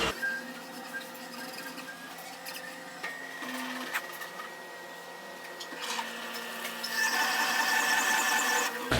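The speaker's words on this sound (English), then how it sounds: "all we have to do is just touch up 2 holes on the other side, and this block will be done with our finish hone" A CNC machine hones the cylinder bores of a Dart LS Next 2 engine block, giving a steady whirring, grinding drone with shifting squealing tones that grows louder and brighter toward the end.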